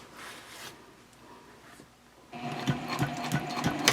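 A sewing machine top stitches through bulky layers of a backpack, starting after a couple of seconds of quiet handling and then running in a close, steady burst of stitching to the end.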